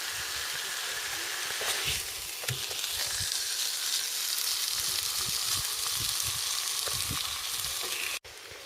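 Food frying in a pan heated by a solar cooker under weak mid-April sun, a steady crackling sizzle throughout with occasional soft scrapes and pops, close up, cutting off abruptly near the end.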